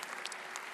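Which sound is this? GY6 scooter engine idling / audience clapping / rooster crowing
audience clapping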